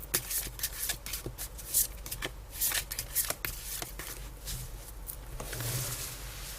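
A deck of tarot cards is shuffled by hand close up, a steady run of soft papery riffles and slaps with brief crisp bursts, with no talking.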